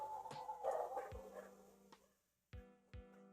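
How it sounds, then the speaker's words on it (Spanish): Several sharp dog barks ring out near the microphone, a cluster early on followed by two separate yaps after a short silence, with faint background chatter at the start. "ahí está, los ladridos"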